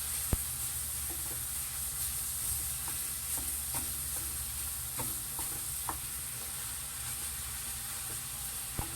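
Chopped garlic and Texas hash ingredients browning in a pan, a steady close sizzle with occasional sharp clicks and stirring scrapes throughout.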